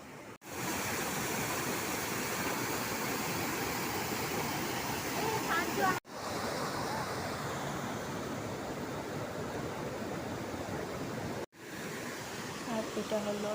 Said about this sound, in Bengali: আর এত ঝর্ণার জল, আর তোমরা তো সাউন্ডটা শুনতেই পাচ্ছ হয়তো।